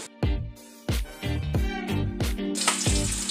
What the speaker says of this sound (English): Let me just flip my bacon real quick,